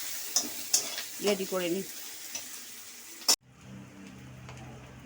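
Chopped onion frying in a pan for an egg omelette curry gives a soft, crackling sizzle with stirring clatter, and someone speaks briefly over it.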